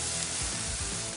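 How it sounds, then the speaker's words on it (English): Bratwursts sizzle on a hot grill at a ballpark concession stand, a dense, continuous hiss and crackle heard up close with no voices. "sizzling hot brats"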